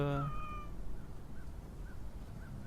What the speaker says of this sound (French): Oh le chat!